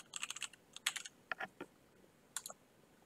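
A computer keyboard is typed on in short, faint bursts of crisp keystroke clicks, with quick clusters and gaps between them against quiet background hiss.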